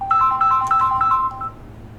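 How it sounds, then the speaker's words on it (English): A mobile phone ringtone plays a repeating melodic pattern of bright beeping notes, fairly loud and close for about a second and a half before stopping, with no speech. "my phone's ringing because I'm a realtor."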